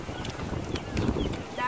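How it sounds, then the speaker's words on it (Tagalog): Gusty wind buffets the microphone in a brief, rough rush, with faint voices underneath. "Super lakas ng hangin."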